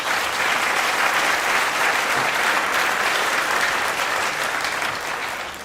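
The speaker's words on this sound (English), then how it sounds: "Let's give them another round of applause." A crowd at a ribbon-cutting ceremony for a business expansion claps loudly and steadily, a thick wash of many hands that carries through and tapers slightly at the end.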